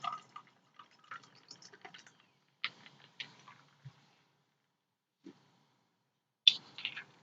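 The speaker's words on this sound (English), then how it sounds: "And pour some ginger ale." Ginger ale is poured over ice and Tanqueray London Dry Gin in a glass, heard as faint, sparse fizzing pops, drips and light clinks spread irregularly across a quiet background.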